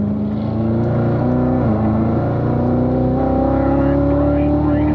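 Race car braking and cornering at Ron Fellows track, steady loud engine drone with pitch dipping and rising through the corner while an instructor talks over it.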